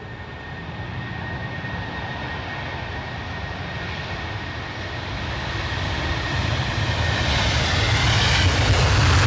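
A jet airliner with Rolls-Royce RB211 engines at Edinburgh airport gives a steady, broad engine roar that slowly builds and grows louder toward the end, with no voices.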